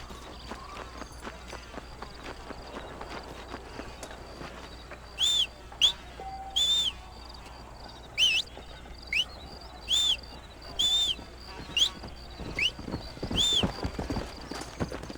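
Horse hooves clip-clopping while riding in the video game Red Dead Redemption, a run of evenly spaced, crisp clops that starts partway in and continues over faint background ambience.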